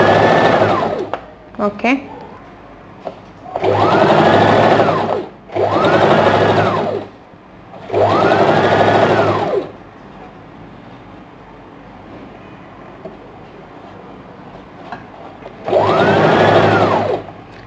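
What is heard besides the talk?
sewing machine stitching a princess cut blouse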